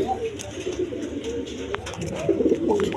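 A pair of white Denis pigeons coo softly nearby, low throaty calls rising and falling amid light rustling and background noise, with a louder burst of cooing near the end.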